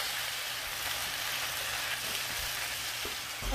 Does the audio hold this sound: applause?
no